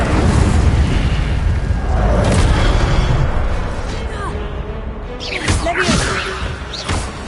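A fire spell cast in Hogwarts Legacy: whooshing bursts and booming flare-ups, loud and close, over a constant busy game backdrop, with a few sharp swishes late on.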